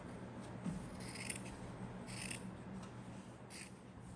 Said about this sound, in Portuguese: Passei a costura, agora é só cortar.